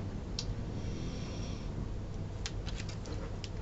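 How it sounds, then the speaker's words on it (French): A pet dog snoring somewhere behind the microphone indoors: a steady, low, rasping breath noise that stays faint under a constant background hiss, with a few small clicks near the end and no talking. "Je sais pas si vous entendez ma chienne ronfler derrière"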